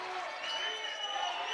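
Basketball crowd at an Alaska vs. Saint Martin's game cheering and applauding, a steady, fairly loud wash of clapping and shouts filling the arena throughout.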